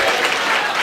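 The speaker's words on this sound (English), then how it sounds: "Please give them a big applause" Steady, loud applause from an audience at a Vyasa Puja celebration, dense clapping filling the whole moment without a break.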